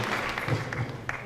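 A church congregation applauds during a service, a brief, dense wash of many hands clapping at once, fairly close and even, with no clear speech.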